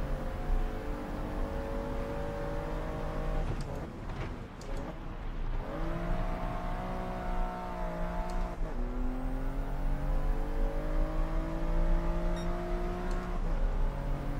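Race car engine in Gran Turismo 7 climbing through the revs with sharp pitch drops at each gear change, shifting up into fourth, loud and continuous with no talk.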